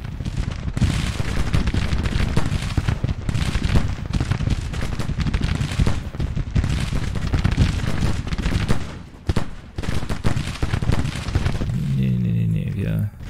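Civil War musket volleys and cannon fire from the strategy game Grand Tactician crackle and boom in dense, repeated bursts, with someone talking over much of the battle.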